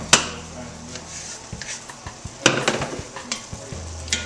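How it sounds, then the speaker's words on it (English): Garlic, onions and celery sauté in a pan for a bisque, with a soft steady sizzle broken by spoon scrapes and a few sharp clicks against the pan, close and moderately loud. "And then we'll just stir that around and let that cook for about another minute or 2"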